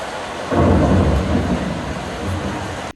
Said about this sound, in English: you're sitting there in the concert hall and all you literally hear is rain